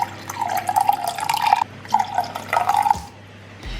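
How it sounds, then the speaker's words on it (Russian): Water poured from a tap into a cup holding an egg, salt and vinegar for pastry dough, a close splashing stream in two bursts with a short pause between, then the flow stops. "Добавляю в чашку яйцо, добавляю также соль, чайную ложку уксуса и вливаю воду."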